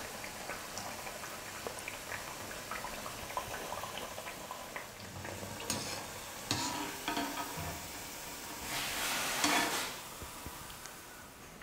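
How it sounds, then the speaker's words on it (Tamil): Sweet rice-flour appam batter fries in oil as a soft, low sizzle with occasional light taps, swelling into a brief louder hiss near the end; faint and close, with no speech. "மாவு எடுத்து எண்ணெயில் ஊற்றி இந்த மாதிரி அப்பம் செஞ்சு எடுத்துக்கோங்க"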